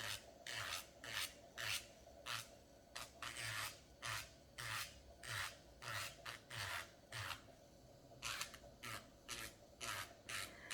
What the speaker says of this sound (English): I know the drill makes it easier.